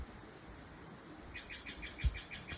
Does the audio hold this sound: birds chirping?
yes